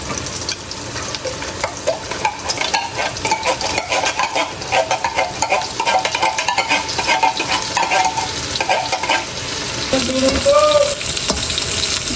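Corned beef being stirred in a pan for creamy spaghetti: steady frying sizzle with repeated scraping and clinking of a utensil against the pan, loud and close, with brief voices in the background.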